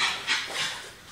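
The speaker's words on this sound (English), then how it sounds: "Look at this dog." A small dog, almost two years old, panting close by in quick soft breathy huffs, with no talking over it.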